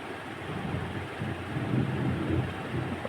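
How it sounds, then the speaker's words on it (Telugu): Thunder rolls in the distance ahead of rain: a continuous low, dull rumble that swells slightly and holds steady throughout, with no voices. "పక్కన మాకు ఉరుముతుంది ఫ్రెండ్స్, వాన పడుద్దేమో"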